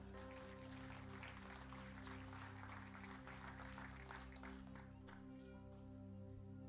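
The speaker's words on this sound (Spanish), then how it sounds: "un fuerte aplauso para él" Church congregation applauding a preacher, a broad steady wash of clapping set against a constant low hum, fairly faint and continuous throughout.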